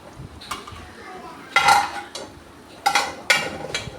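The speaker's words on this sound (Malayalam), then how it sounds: "ഇറച്ചി അതിലേക്ക് എല്ലാം കൂടി നന്നായിട്ട് മിക്സ് ചെയ്യും" A spoon scrapes and clatters against a pot while beef curry is stirred and mixed, in a few sharp bursts spaced over a quiet kitchen background, fairly close.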